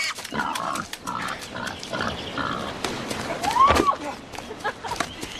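Pig grunts and squeals mixed with shouting voices, a rising squeal standing out near the middle amid busy outdoor commotion.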